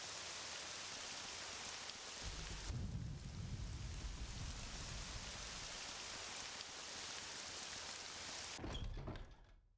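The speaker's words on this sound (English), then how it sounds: "This fine, rainy, thundery day in the foreign quarter." Steady rain with a deep rolling rumble of thunder in the foreign quarter of a role-playing video game, a continuous hiss that cuts off sharply near the end.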